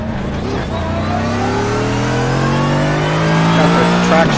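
A Mercedes-AMG GT3 race car at Daytona Motor Speedway revs hard and climbs through the gears, its engine note loud, close and continuous, with rising harmonic sweeps and a brief tire chirp.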